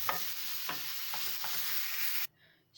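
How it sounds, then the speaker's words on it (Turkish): Medium-fat minced meat sautés in a pan with a close, steady sizzle and several soft scraping stirs, before the sound cuts off abruptly near the end. "Şöyle kıymamı da koydum. Bir güzel kavuracağım bunları."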